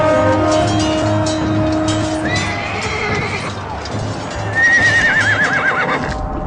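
Horse whinnies loudly twice, with a rising neigh mid-clip and a longer wavering one near the end, over a steady rumble and faint clopping hooves amid battle-like commotion.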